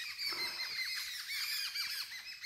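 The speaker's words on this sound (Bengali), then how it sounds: "পাখিদের অসাধারণ শব্দ" Birds call in a misty natural forest beside a resort in Jhenaigati, a rapid series of squawking, chattering notes from a group, fairly faint and with no voices present.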